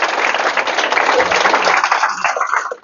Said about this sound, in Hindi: एक जोरदार ताली बजाइए लोग।